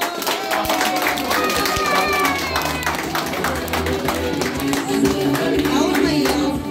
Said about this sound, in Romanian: aplauze cu toții!